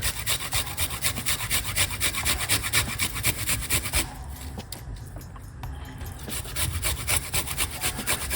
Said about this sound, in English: I'm going to grate all of this piece of ginger right here.